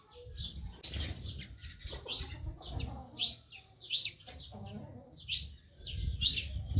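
High, repeated cheeps from a small chick sound in short bursts, close by, over low rustling and handling noises.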